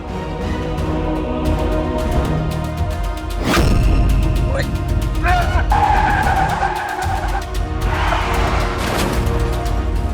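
A car skids with loud tire squeal and screeching before crashing into another car in a drama scene, engine noise and impact clatter overlapping, close and intense, followed by further screeches and debris sounds.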